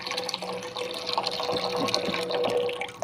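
Water is poured into a pan for a leche flan, a short trickling, splashing fill sound close by with faint clinks over a quiet room.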